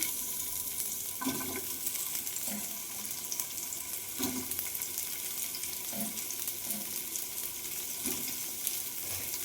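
Cubes of food roasting in a pan, giving a steady soft sizzle with intermittent stirring scrapes and clinks, moderately close, with no talk.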